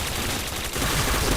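Rapid bursts of gunfire in the video game Point Blank, a loud continuous crackling volley with no talking.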